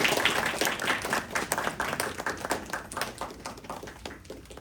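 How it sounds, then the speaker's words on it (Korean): Church congregation applauding together during an infant baptism blessing at a Christmas service, a dense wash of many hands clapping steadily for several seconds, fading slightly toward the end, with faint voices. "우리 박수로 함께 축복해 주시면 감사하겠습니다"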